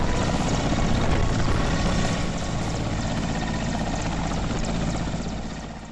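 An army helicopter carrying radar circles over the Rishiganga river, its steady rotor chop and engine roar loud and continuous, holding close overhead before easing slightly toward the end.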